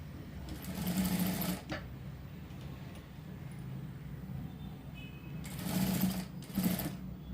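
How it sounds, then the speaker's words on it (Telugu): Sewing machine stitching the folded hem of a large blouse, running in short bursts of rapid mechanical whirring with quieter pauses between, close and clear with no talk. "ఎక్స్ట్రా క్లాత్ ఇలాగా మడిచి కుట్టుకోవాలి"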